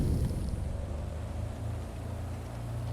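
A small aircraft engine runs up to 1700 RPM in the X-Plane 11 video game, giving a loud, steady, close droning hum that holds throughout with no talk.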